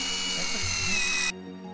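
A power drill driving screws whirs steadily and loudly up close, its pitch wavering as it bites, then stops abruptly.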